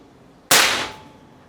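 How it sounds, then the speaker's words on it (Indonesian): A single sharp crack of a PCP big game air rifle shot, loud and close, with a short ringing decay in a quiet setting. "tembakan pertama ya."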